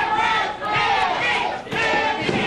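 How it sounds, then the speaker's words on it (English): Wrestling crowd at a WCWC match chants in unison, a loud rhythmic roar of many voices filling the arena, swelling and dipping in repeated waves. "Crowd chanting hippies."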